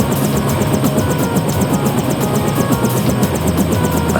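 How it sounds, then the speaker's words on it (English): Helicopter in the Deus Ex GMDX mod game, a steady rotor thrum and engine whine holding loud and constant, with a rapid rhythmic chop throughout. "You trust the guy in the helicopter?"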